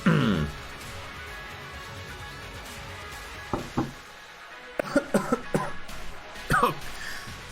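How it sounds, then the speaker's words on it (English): A person coughs right after taking a drink. Several sharp, close coughs and throat-clearing bursts come in irregular clusters over a quiet background, mixed with some brief vocal sounds. "I took a drink and then coughed."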